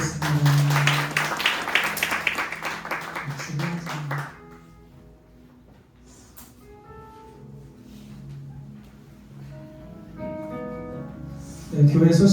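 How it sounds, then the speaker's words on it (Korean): A church congregation claps in a dense burst for a few seconds that then stops, followed by quieter talk and a brief rise of sound at the end. "서로를 향해 축복의 박수 하겠습니다."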